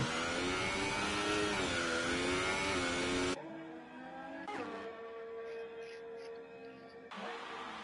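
A sim racing game race car engine drones at high revs, then drops off the throttle into a lower, quieter whine with a brief rising burst before revving back up.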